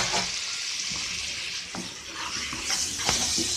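Chicken sautéing in a pan for gravy, continuous close sizzling and frying with occasional stirring scrapes, fairly loud and steady.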